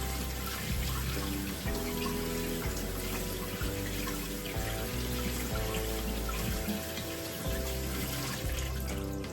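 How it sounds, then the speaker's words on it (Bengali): Lentils are washed under a running tap, a steady stream of water splashing into a bowl with faint sloshing, continuous and close, no voices. "একটু ভালো করে ধুয়ে নিচ্ছি।"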